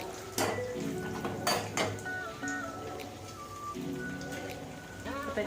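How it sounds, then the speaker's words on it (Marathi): Dry fruits such as cashews sizzle in hot ghee in a pan while carrot halwa is being made, a soft crackling fry broken by a few sharp metallic clinks of a spoon against the pan. "आपले ड्रायफ्रूट छान असे तळून जाते."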